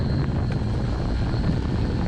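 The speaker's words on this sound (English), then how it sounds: "So there it is, the Volantex Train Star," A Volantex Trainstar RC airplane drones steadily overhead at a club flying field, its propeller hum constant and moderately loud with no talk.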